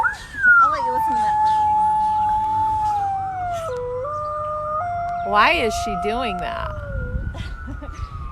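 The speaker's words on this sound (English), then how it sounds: "So right now she's doing a howl, and coyotes are known for their vocalizations" A female coyote at a zoo howls in long, wavering rising and falling tones alongside a distant wailing emergency siren, with a few sharp yips partway through and a person speaking briefly at the start.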